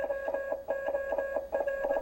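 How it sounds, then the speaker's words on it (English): A Ghostbusters HasLab ghost trap toy plays Morse code as a rapid series of electronic beeps, steady and fairly loud, grouped into short patterned bursts with brief gaps between groups. "There's also this Morse code"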